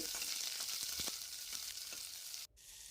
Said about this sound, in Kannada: ಈರುಳ್ಳಿನ ಎಣ್ಣೆಯಲ್ಲಿ ಸ್ವಲ್ಪ ಫ್ರೈ ಮಾಡ್ಕೊಳ್ಬೇಕು